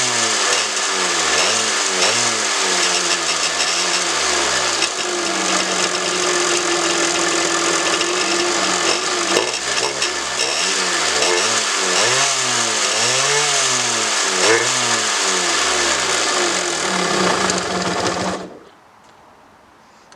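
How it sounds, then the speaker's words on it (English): A Yamaha Tri Z 250 two-stroke three-wheeler engine runs loud and close for about eighteen seconds, revving up and down in repeated surges, then cuts out abruptly and the clip falls to near silence. "I can rev it up once I get it started."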